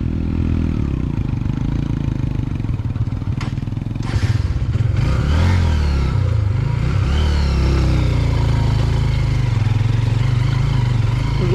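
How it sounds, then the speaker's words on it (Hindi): A motorcycle labours up a steep, broken uphill road on a forest route, its engine droning and revving unevenly close by, with clattering, scraping and thumping from the rough surface throughout. "चढ़ाई पे रोड टूट है ना, तो फिर वो बाइक मोशन में आने में टाइम होती है"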